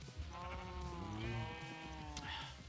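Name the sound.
sheep bleating in the video game Minecraft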